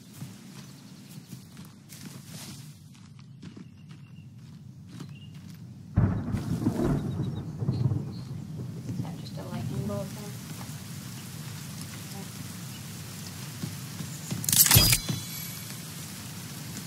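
Steady rain falls in The Forest video game, a constant hiss across the scene with a louder gust partway through and a sharp burst near the end.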